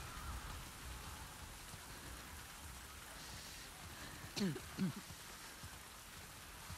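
Soft, steady rainfall patters through the sodden ruins in The Last of Us Part II, a faint continuous hiss with a couple of brief louder knocks partway through.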